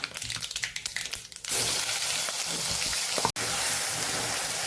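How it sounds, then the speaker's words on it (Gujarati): Loud, steady sizzling of spices and asafoetida hitting hot oil for tempering a gravy, starting abruptly after a moment of crackling and continuing with a brief cut partway through. "ગ્રેવીનો આપણે વઘાર કરવાનો છે"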